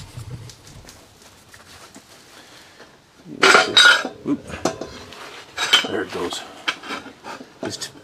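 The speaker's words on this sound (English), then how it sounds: "pull the pot out slightly off to the side so it's sort of just past the edge of the brake drum" Metal pot scraped and knocked across the brake drum of a homemade waste oil burner, a burst of harsh clanking and grinding followed by scattered lighter metallic clinks, fairly close with steady burner noise underneath.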